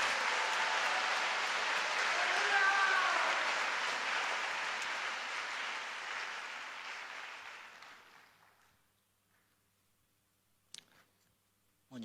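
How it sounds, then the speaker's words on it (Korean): Applause from a church prayer-meeting congregation welcoming Pastor Park Han-soo to the pulpit, a dense steady wash of clapping that fades out over several seconds into near silence. "뜨거운 박수로 모시겠습니다."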